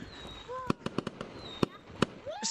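Fireworks going off in a video game: several sharp bangs and crackling bursts close together, with whistling rising tones between them.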